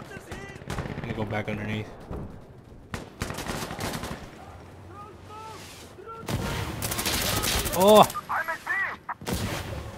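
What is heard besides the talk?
mortar fire in video game Insurgency Sandstorm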